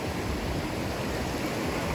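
A river flows down from a waterfall at Wang Nam Khiao in Laos during the rainy season, giving a steady, dense rushing roar of water with no voices.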